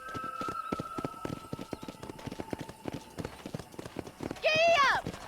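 Horse hooves clip-clop at a steady galloping rhythm in the Red Dead Redemption video game, running close and fairly loud through the whole stretch, with a rider's voice over them and a short whinny-like cry near the end.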